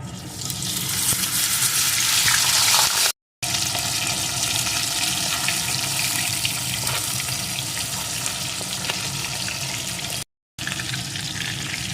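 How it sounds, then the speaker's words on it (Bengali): Fish heads rubbed with salt and turmeric frying in hot mustard oil in a kadai, a loud, dense, continuous sizzle heard close up, broken by two brief silent gaps. "এখন আমি এই লবণ হলুদ মাখানো মাছের মাথাগুলোকে ভেজে নেব"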